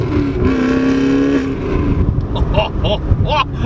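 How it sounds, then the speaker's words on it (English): A loud 2016 Chevrolet Camaro SS engine revs up hard in a first-gear pull close by, the pitch climbing before easing off, with the tires briefly scrabbling. "we'll do a first gear pull here"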